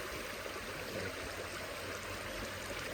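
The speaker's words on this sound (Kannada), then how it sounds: "ನೀರು ಹೋಗುವ ಫೋರ್ಸ್ ತುಂಬಾ ಜಬರ್ದಸ್ತಿದೆ" Forceful stream water rushing past outdoors, a dense continuous roar of flowing water, steady and fairly close, with no voices over it.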